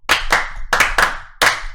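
Five sharp hand claps ring out in the Korean World Cup chant rhythm, grouped two, three, then one after a pause, close and loud with no talking.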